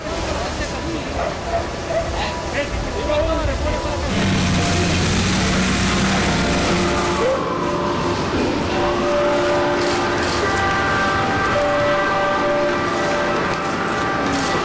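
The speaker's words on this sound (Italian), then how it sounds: "Le sirene e i rumori di quel giorno sono stati scelti oggi per riempire simbolicamente il minuto di silenzio" Wailing sirens rise and fall over a dense roar of rumbling noise and distant commotion from a bridge collapse, with voices faintly mixed in.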